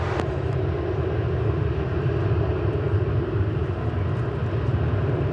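Steady, loud jet engine rumble from American Airlines flight 1174 at DFW Airport, continuous and unbroken with a faint whine above it.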